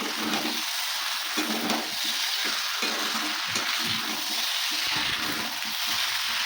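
Mixed vegetables sautéing in hot oil in a pan for a vegetarian curry, a constant close sizzle broken by repeated scraping, clattering stirs of a spoon.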